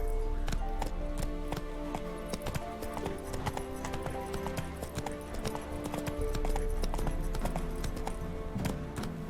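A horse gallops in the open world of The Witcher 3: Wild Hunt, its hooves clip-clopping in a steady, continuous rhythm over game music and ambience, with an occasional short whinny.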